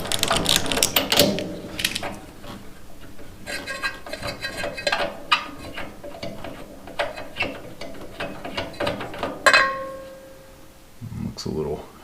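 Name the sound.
ratchet wrench removing spark plug on Troy-Bilt chipper/vac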